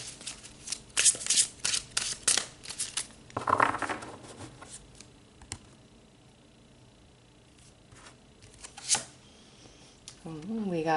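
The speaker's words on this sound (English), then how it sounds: "Let's pull some more cards." Tarot cards shuffled and pulled by hand, with bursts of crisp riffling and flicking, then quieter handling and a few soft snaps of cards being drawn.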